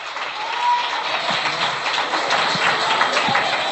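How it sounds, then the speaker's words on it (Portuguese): A church congregation claps together at a 1995 Portuguese-language communion service, steady rhythmic clapping spread across a room, fairly loud with some background murmur and no clear speech. "Palmas que louvam o nome do Senhor Jesus."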